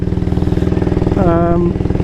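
A 1938 AJS Model 22 250cc air-cooled single-cylinder motorcycle running on the road, a loud, close, rapid thumping exhaust beat, with a brief higher-pitched whine and a shift in tone partway through.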